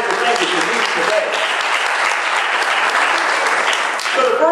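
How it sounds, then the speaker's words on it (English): A church congregation bursts into sustained applause, a hand clap of praise, steady and dense from start to finish, with some voices calling out underneath. "Give the Lord a hand clap of praise because you got everything that you need today."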